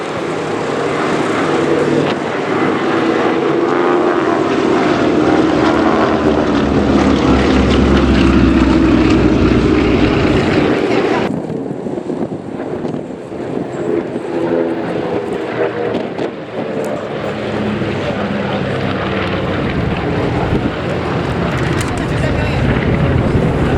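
Lockheed propeller aircraft flying at the Duxford Flying Legends air show, a loud sustained engine drone that builds and then drops in tone partway through, with a voice talking over it.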